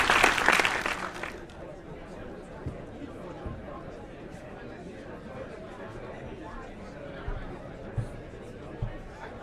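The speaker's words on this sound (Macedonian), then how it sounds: "Еден голем аплауз, така." An audience at a World Poetry Day event bursts into a short burst of applause that fades within about two seconds into murmuring crowd chatter and scattered footsteps.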